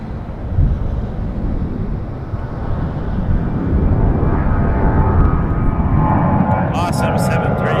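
A Boeing 737's jet engines roar loudly and steadily at Toronto Pearson Airport, with broad rushing noise and some wind buffeting on the microphone.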